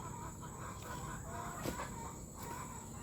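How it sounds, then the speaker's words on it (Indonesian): Laying hens at a semi free-range coop cluck in scattered bursts over a steady hum of background noise, moderately close and fairly faint. "kita akan melihat aktivitas ayam petelur saya yang mengkonsumsi daun sereh ya"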